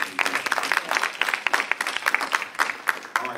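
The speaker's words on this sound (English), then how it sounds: "I just want to give this whole college a round of applause." An audience at a college leadership talk claps loudly and continuously, with dense, close applause and a few sharper individual claps standing out.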